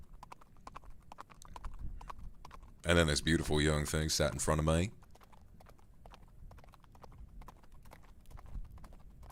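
Soft, steady clip-clop of horse hooves under a cowboy roleplay scene, a faint rhythmic patter running throughout while someone speaks briefly in the middle.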